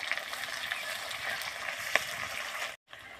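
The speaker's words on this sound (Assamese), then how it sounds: "উঠি থোৱা পিঁয়াজখিনি দি লৈছোঁ।" Sliced onions sizzle in hot oil with bay leaves in the pan, a soft, steady frying hiss with faint crackles and one brief sharp pop, cut by a short gap near the end.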